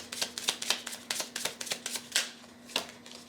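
Astrology cards being shuffled by hand in a steady run of crisp riffling flicks, close and clear with no voices.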